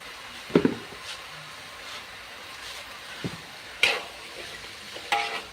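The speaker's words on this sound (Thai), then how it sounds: "ผัดดอกหอม นี่เนาะใส่อีกก่อน" Onion flowers stir-fried in a pan, a soft steady sizzle broken by scraping spatula strokes and occasional clanks, close by with no talking.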